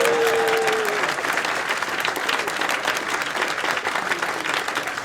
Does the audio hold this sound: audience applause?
yes